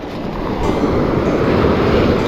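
Ocean waves washing onto the beach at Longboat Key after Hurricane Milton, a loud continuous rushing surf with wind buffeting the microphone, no voices.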